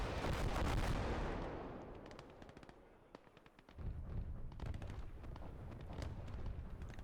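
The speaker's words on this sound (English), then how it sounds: "Artillery's pumping away" Artillery and gunfire pound in the Gates of Hell video game, with a rolling explosion fading out, then a series of sharp distant cracks and renewed rumbling booms and shots.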